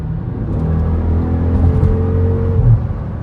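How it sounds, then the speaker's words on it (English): Loud, close engine intake roar from a Jeep SRT accelerating hard, a steady rumbling drone with rising tones from inside the cabin. "Hold on, we gotta speed up fast. The intake's over there intaking."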